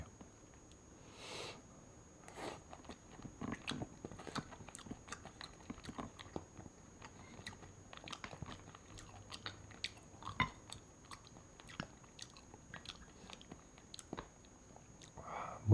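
Someone eating pork gukbap, dipping pieces in soy sauce: soft, close chewing and mouth sounds with small crunchy bites and faint clicks spread irregularly over a quiet room.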